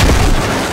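A grenade explodes in a military video game, a loud, close boom with a rumbling low end that fills the whole moment and slowly decays.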